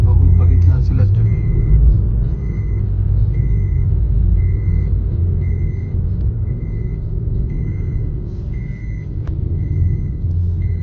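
Vehicles rumble past along a snowy road in Sonmarg, Kashmir, beside the Sindhu river, a steady low engine and tyre roar running throughout with a faint repeating high beep over it.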